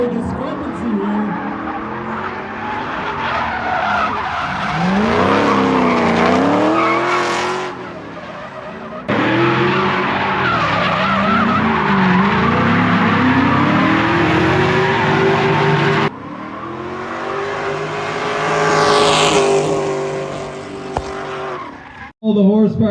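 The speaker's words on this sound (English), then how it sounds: "All the horsepower that V8's putting out of Tyler's car, making all the smoke, making all the noise" A V8 drift car racing at Suika Circuit, smoking its tires, roars loudly with repeated rising and falling revs and long tire squeals. Brief cuts break up the sound, and it ends in a sudden burst.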